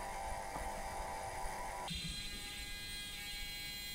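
A small machine lathe taking fine turning passes on the latch head of a wooden gate, a steady whining motor hum whose pitch shifts partway through, quiet and close, with no voices.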